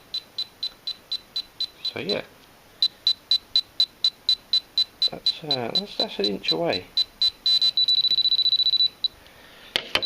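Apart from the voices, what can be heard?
GP pinpointer metal detector beeping near silver sixpence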